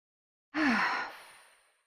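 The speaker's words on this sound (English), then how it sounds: "Just going to take 3 slow, normal breaths" A single slow, deep exhale during a relaxation breathing exercise, heard close and clear: a soft rush of breath that swells quickly and fades away gradually in near silence.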